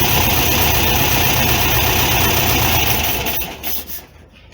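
A VW Fusca air-cooled engine with dual Solex 32 PDSI carburetors idles loud and steady with a low rumble, then cuts off near the end and winds down to quiet.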